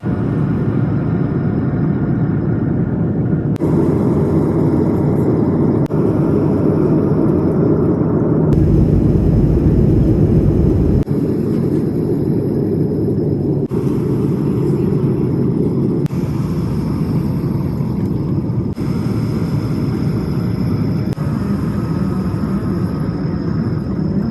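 Cabin noise fills a full passenger flight: a loud, constant broadband roar of engines and airflow that shifts in level at a few points and carries no clear talk.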